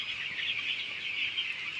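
Ten-day-old chicks at a poultry farm cheep together in a dense, continuous chorus of high peeps, steady and fairly close, with no one talking.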